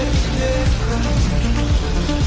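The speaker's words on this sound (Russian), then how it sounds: "Попал под ливень, жесткий ливень." Heavy downpour in Novosibirsk hits a motorcycle rider, a dense constant hiss of rain with the bike's engine rumbling and revving underneath.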